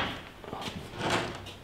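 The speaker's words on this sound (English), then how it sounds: "I'm gonna close this door." An old door in an abandoned mansion in the woods is pushed shut, giving a short creak and scrape followed by a soft wooden thud, close and fairly quiet.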